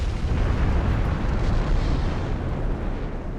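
Naval battleship gunfire in Ultimate Admiral Dreadnoughts, a dense, loud, rumbling barrage of low booms blending into a continuous roar without distinct pauses.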